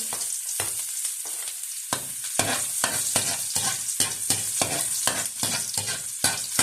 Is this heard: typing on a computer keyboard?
no